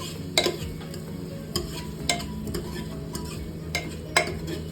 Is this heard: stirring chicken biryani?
yes